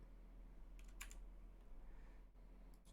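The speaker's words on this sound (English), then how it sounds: "Typing in the wrong spot." Brief bursts of keyboard typing, a few quick clicks near the middle and end, over a steady low hum; no talking.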